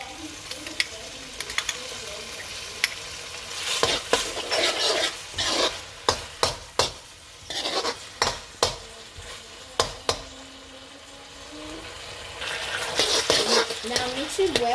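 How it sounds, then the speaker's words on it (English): Veg Manchurian mixture being stirred in a pan, sizzling under a series of sharp spoon clacks and scrapes against the metal that come in uneven bursts, with quiet stretches between them. "Now mix it well so we can have a good texture when we mix all the sauce together."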